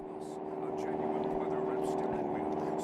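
A propeller airplane in the PS2 game GTA Vice City Stories gives off a steady, close engine drone with a constant hum that holds for the whole stretch.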